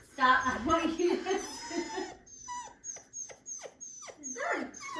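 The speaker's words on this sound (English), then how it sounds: "That's a dog." A new puppy yelps and barks in a run of short, high, choppy cries, close and fairly loud, after excited voices talking at the start.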